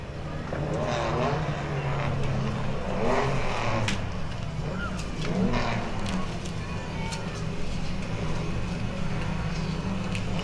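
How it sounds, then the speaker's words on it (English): Pro 6 division race cars circling Langley Speedway under caution before the start, a steady rumbling drone of several engines with occasional rising revs, heard from trackside while an announcer talks over the noise. "In a half a lap, they will turn them loose for the Pro 6 division here at Langley Speedway"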